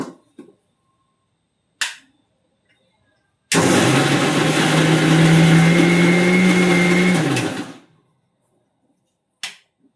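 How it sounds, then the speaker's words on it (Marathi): A mixer grinder coarsely grinds corn in one loud, continuous whirring burst of about four seconds, close up. Short clicks and knocks come just before and after it, and no one speaks. "हे मी सगळं मिक्सरवरती बारीक थोडंसं जाडसर असं हे करून घ्यायचं"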